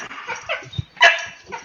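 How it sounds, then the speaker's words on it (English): A dog barks and whimpers nearby, a few short yips and whines among indoor background sounds, with a sharp louder bark midway. "that dog sounds like it wants to be taken out"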